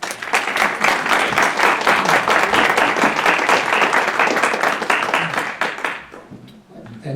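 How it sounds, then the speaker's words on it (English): An audience applauding a speaker at an award event, dense sustained clapping from many hands at steady volume that fades out toward the end. "Let us have a big round of applause for Dr."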